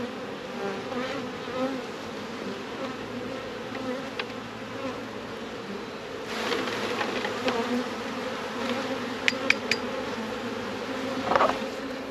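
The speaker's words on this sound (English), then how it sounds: "So you just disturb the bees again now" Bees swarm and buzz around an open beehive that has been disturbed, making a dense, continuous drone close by with a few brief sharp knocks and clicks, and no voices.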